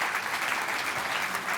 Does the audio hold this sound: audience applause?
yes